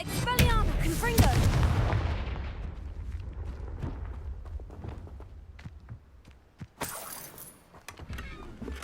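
Expelliarmus and Confringo spells clash in combat in Hogwarts Legacy on PS5. Whooshing magical blasts and a heavy explosion open the scene, followed by scattered sharp impacts and cracks that fade into quieter rustling.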